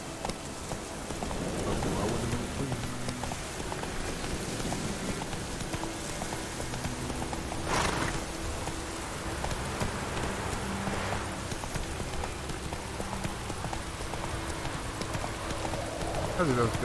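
Roach the horse in the video game Witcher 3 gallops through rain, a rhythmic clip-clop of hooves over a steady patter of rainfall, with a voice speaking briefly over it.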